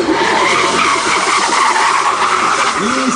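A BMW drifting at a Paris tuning drift show, tires squealing loudly in a sustained skid with the engine revving and wavering pitch, close and continuous throughout.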